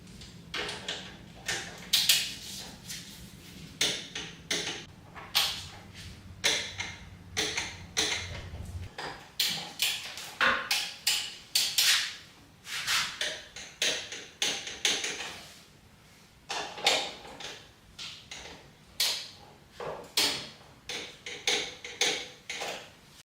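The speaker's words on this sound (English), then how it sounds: "And now it's time to torque all the bolts." A torque wrench tightens the brake bolts on a 1996 Yamaha YZF600 during a brake system rebuild, making a series of close mechanical clicks and ratcheting taps in irregular bursts.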